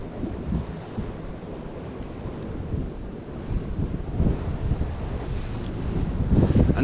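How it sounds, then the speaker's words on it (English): Steady wind buffets the microphone on a sea shore during lure fishing, a constant low roar with surf rumbling underneath that swells louder toward the end, with no talking. "It's a bit windy."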